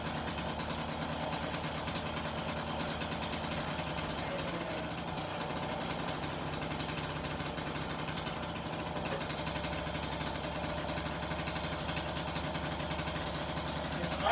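A Motobecane moped engine idles steadily and close by, a continuous even putter with a fine rapid rhythm that runs unbroken throughout with no voices over it.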